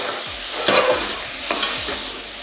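Cauliflower and Brazil nuts are stirred in a pan over high heat: a loud, close, steady sizzle broken by a few rhythmic scraping and knocking strokes of the utensil, with nobody speaking.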